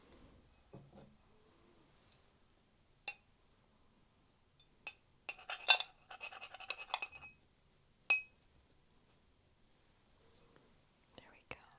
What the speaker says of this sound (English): I have a strainer here.